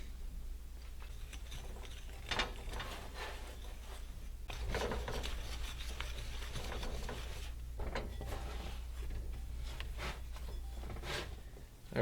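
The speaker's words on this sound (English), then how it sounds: "throw it all in a bowl and mix it up real good" Flour, water and salt being mixed into hardtack dough in a bowl, heard as scattered scraping, rubbing and knocking at close range over a low steady hum, with no talking.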